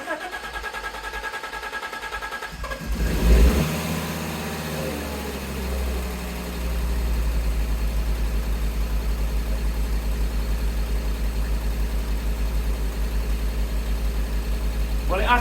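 A Fiat Coupe engine cranks and catches, revs briefly, then settles into a steady, rumbling idle that continues to the end.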